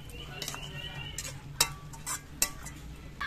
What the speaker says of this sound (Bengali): আবার শাকটা নেড়ে চেড়ে দিচ্ছি